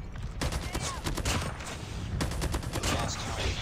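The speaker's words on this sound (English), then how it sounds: "Wow, I didn't know that hipfire was this good on the DRH." Rapid automatic hipfire from a DRH rifle in Call of Duty Mobile, a dense close burst of shots running almost without pause across the short stretch.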